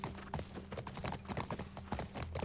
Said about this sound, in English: Can we not make this horse go like any faster?